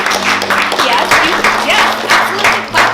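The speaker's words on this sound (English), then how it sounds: "yes, absolutely, clap, clap, clap." Applause at a commissioning service for an English camp in Thailand, a steady patter of many hands clapping close and fairly loud, with a voice speaking over it.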